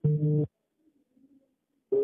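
A telephone ring tone on a call, heard as one steady buzzing burst, a pause with faint murmur, then another burst starting at the end; no one speaks over it.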